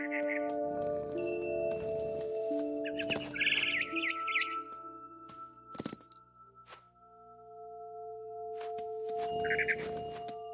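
A mother bird chirps in a tree in the video game What Remains of Edith Finch, bright short calls in bursts over sustained tonal game music and a few glassy clinks.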